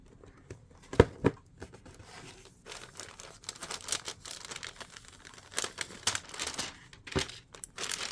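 A sticker being peeled off crafting-supply packaging, with close crinkling, tearing and rustling in irregular bursts and a couple of sharper snaps.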